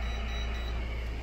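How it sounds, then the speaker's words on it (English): A thin, high electronic beep from a meter sounding in short pulses over a loud, steady hum, beside an EG4 6000XP solar inverter. "That should be my meter beeping"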